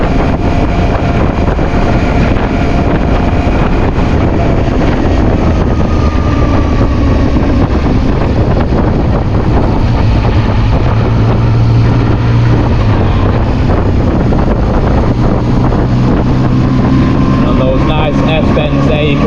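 Loud, continuous wind roar over the engine drone of a Zontes ZT 703 F motorcycle at speed on a warm night with the helmet visor open, rising and falling slightly as the bike accelerates.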